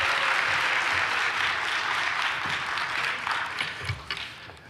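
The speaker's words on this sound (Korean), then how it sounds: "뜨거운 박수 환영해 주시고요." Audience applause greets a guest professor arriving to lecture at a church gathering, a steady dense wash of many hands clapping for nearly five seconds, loud and sustained before easing slightly toward the end.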